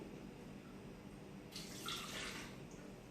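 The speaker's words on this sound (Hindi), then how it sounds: "सबसे पहले मैं अपने ब्लेंडर में पानी डालूंगी।" Water poured into a blender for a mint lemonade, a quiet splashing stream that starts partway through and runs for about a second, close and faint.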